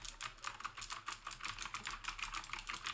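A Keychron K4 keyboard is typed on at close range: a continuous run of quick, crisp key clicks in uneven bursts, fairly quiet and heard alone without any talking.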